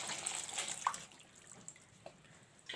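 Water pouring into a cooking pot for boiling bananas, a soft splashing trickle in the first second followed by faint drips and quiet clinks near the end, with no talking.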